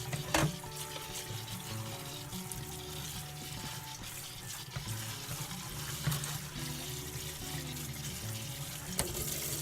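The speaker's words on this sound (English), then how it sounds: "So I just leave it to drain just for a minute or two." Water drains and trickles from freshly washed wild garlic in a kitchen sink, a steady soft patter and dribble with a few sharper drips and clatters, continuous and fairly quiet throughout.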